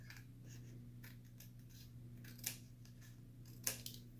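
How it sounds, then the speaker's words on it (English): Scissors snip off excess paper along a line while making a ten-panel flip book, quiet cutting with two sharper snips standing out over a low hum. "I'm going to cut off the extra right down this line."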